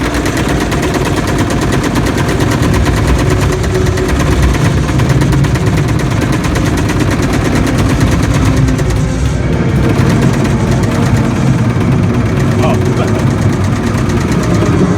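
Turret guns fire continuously at Covenant fighters in the arcade shooter Halo: Fire Team Raven, a loud relentless rapid rattle blended with a droning engine rumble, close and dense throughout.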